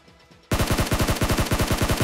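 A loud automatic weapon fires a continuous burst of about a dozen rapid, evenly spaced shots in a battle-royale shooter game, breaking in abruptly after half a second of quiet.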